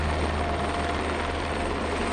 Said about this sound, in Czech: V tuto chvíli tedy vrtulník